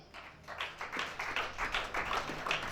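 A church congregation at a conference in Libreville, Gabon, claps in a quick, uneven burst of hand claps that sounds close and fairly loud, with no talking over it.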